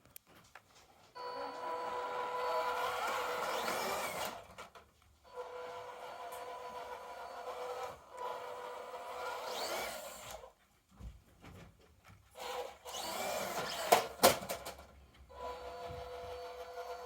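A Kyosho Mini-Z MN86S radio-controlled car runs across carpet, its small electric motor whining in steady bursts of several seconds each, with short pauses between runs and a few sharper squeaks near the end.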